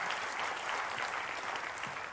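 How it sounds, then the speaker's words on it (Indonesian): A church congregation claps together for Jesus, a full, sustained roar of many hands that stays thick and level for the whole moment. "kalau mau tepuk tangan boleh lebih dahsyat lagi buat Yesus Tuhan kita"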